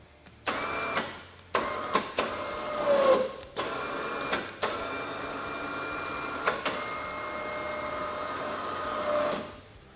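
Electric winch on a Honda Talon 1000 running in several short bursts, each a sharp start into a whirring motor whine, then a longer steady run that cuts off near the end, close and loud.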